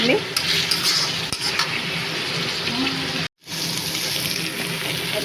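A spoon scrapes and stirs masala with cabbage in a pan over a constant sizzling hiss, broken once by a brief moment of silence.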